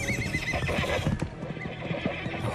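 Horses whinny and neigh while hooves clip-clop nearby, a busy mix of animal calls and stamping at moderate volume.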